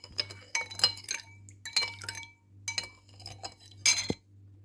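A spoon stirring a cake mixture in a bowl, producing bursts of bright clinking and scraping against the bowl in several close, uneven rounds.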